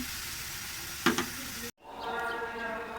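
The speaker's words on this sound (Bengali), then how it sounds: "মিষ্টি কুমড়া কষিয়ে নিয়ে মাছগুলো দিয়ে" Pumpkin and fish sautéing in a pan with chilli powder give a steady close sizzle, broken by a brief stirring scrape and a short silent cut before the frying resumes.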